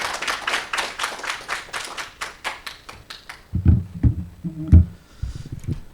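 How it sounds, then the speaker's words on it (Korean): Scattered clapping from an audience welcoming a presenter at an ESG forum conference session, a few seconds of uneven claps that fade as low thuds and a voice start to take over. "뜨거운 박수로 환영해 주시기 바랍니다"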